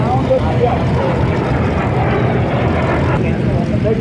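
A North American advanced trainer flies at the Oshkosh air show, its propeller engine giving a steady, loud, broadband drone throughout, with voices talking over it.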